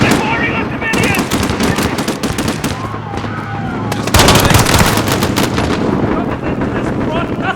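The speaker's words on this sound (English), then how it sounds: "They're firing on civilians!" Loud, dense gunfire in the video game Modern Warfare during an attack at Piccadilly Circus, automatic bursts and shots overlapping continuously with shouted voices mixed in.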